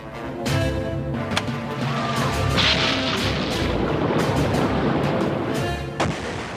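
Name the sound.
explosion of U-boat attack on fuel tanker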